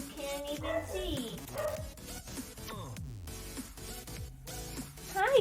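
A house dog barks and whimpers in short, scattered yips through a room, fairly close but quiet, with other background sounds mixed in.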